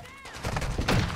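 Gunfire from the Call of Duty video game comes as a quick burst of muffled shots and thuds, moderately loud and close, with a faint voice in the background.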